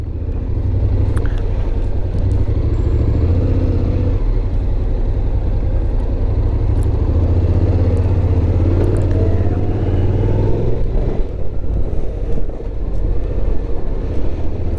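A Honda Forza 750 scooter riding along, its engine giving a steady, loud low rumble throughout, overlaid with constant wind and road noise and no voices.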